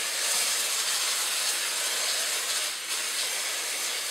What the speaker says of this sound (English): cover them with a nice coating of non-stick